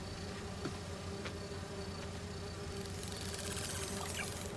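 Virtual bee wolves in the Spider-Man 2 video game give off a steady insect buzz lasting the whole stretch, a continuous droning hum that stays fairly even in level with faint game ambience underneath.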